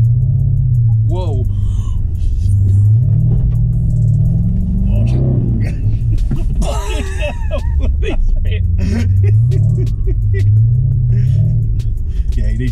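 A V8 Land Rover Defender revs hard in a deep field, its heavy low rumble rising and falling in surges across the clip, with people talking and exclaiming over the engine.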